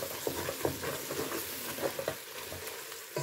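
Curry being stirred into food frying in a pan for a Sunday lunch, with a continuous close sizzle broken by repeated scraping stirs and clinks of the utensil.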